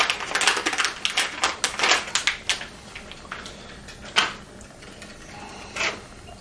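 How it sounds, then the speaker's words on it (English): Techflex braided cable sleeving is cut for DIY 11-gauge speaker cable, giving a run of sharp, close snipping and crunching clicks in quick rhythm, then a few sparser cuts, with no talk. "we're going to cut up a piece of Tech Flex"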